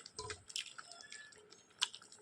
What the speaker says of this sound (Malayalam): നിറച്ച തേങ്ങ ഒഴിച്ചു കൊടുത്തു കേട്ടോ